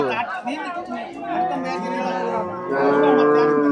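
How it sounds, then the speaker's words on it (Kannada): A cow moos in a long, loud, drawn-out call that swells toward the end, close by, with faint crowd chatter behind at the Haveri cow market. "ನೋಡ್ರಿ ಇದು ಹಸು"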